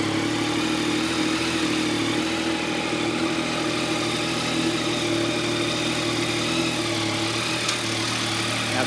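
A 2016 Yamaha XSR900 motorcycle engine idles in a steady, even rumble with a constant low hum and faint mechanical vibration, close by and unbroken throughout, with no talking.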